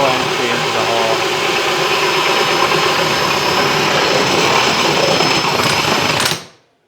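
A drill spins a hole bit at high RPM, cutting a 4-inch hole for a recessed light with a loud, steady whirring grind close by that stops abruptly near the end.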